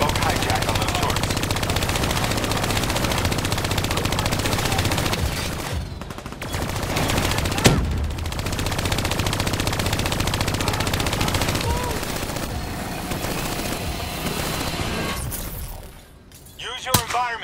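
Sustained gunfire from turrets and weapons in Call of Duty Black Ops III, loud and dense with rapid bursts and a few brief lulls, running almost continuously with game sounds layered in.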